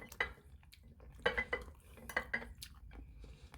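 Spoon and dishes handled at breakfast, a series of close, faint clinks and scrapes of metal on crockery in irregular bursts.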